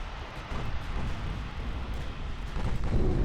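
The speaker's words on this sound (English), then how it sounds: "Three hits. Flash fire on a battleship. Enemy battleship destroyed." Torpedo hits explode against a battleship in the naval video game Ultimate Admiral Dreadnoughts, a sustained rumbling roar of blasts that swells louder toward the end.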